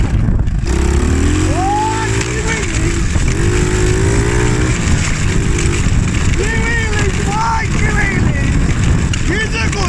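A Honda Monkey bike engine with a newly fitted clutch revs loud and close, its pitch climbing and dropping in repeated surges while voices talk over it.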